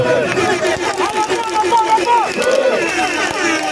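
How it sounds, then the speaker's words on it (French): Crowd at a political rally in Marcory, Abidjan, cheering continuously in a dense, loud wash of voices and shouts, with an amplified voice rising over the din. "Je veux des acclamations."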